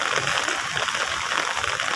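Rain falls steadily at Manila Bay with a continuous bright hiss of drops on water and hard surfaces, close and even throughout, with no voices.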